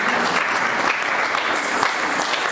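A church congregation claps in sustained, dense applause that stays steady at full volume for the whole stretch.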